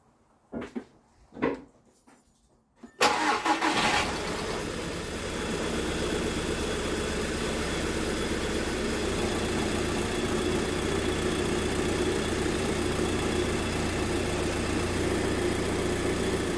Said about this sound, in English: Let's start the vehicle and just make sure the cooling system's okay.